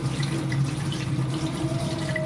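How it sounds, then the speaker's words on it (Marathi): Tap water runs steadily over fenugreek leaves being washed in a kitchen sink, a continuous close splashing and trickling with no voices. "स्वच्छ पाण्याने धुवून घेतलेली आहे"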